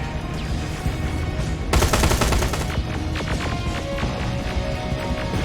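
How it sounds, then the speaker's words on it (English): Rapid automatic gunfire in the Terminator Resistance video game, a dense burst of loud shots erupting abruptly after a steady battle rumble, then continuing as scattered shots and impacts within a noisy combat mix. "Suppressive fire!"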